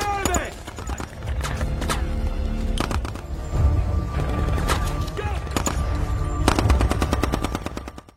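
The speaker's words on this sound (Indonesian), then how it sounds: "Baku tembak tidak berlangsung lama" Rapid machine-gun bursts and scattered gunshots fill a firefight from a film, loud and dense with brief lulls, mixed with other action sounds and voices.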